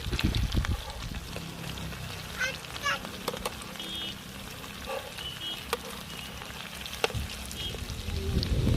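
Crispy prawn vade shallow-frying in a pan over a village wood-fired chulha, a steady soft sizzle running throughout with occasional small pops and clinks, fairly close and even in level.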